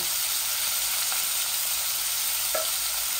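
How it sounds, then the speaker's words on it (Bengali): Oil sizzles steadily in a hot pan at the start of a cabbage curry, a constant close hiss with a couple of faint clinks and no talking. "এখন আমি বাঁধাকপির তরকারি তেল দিলাই আর আমার পরিমাণ মতো।"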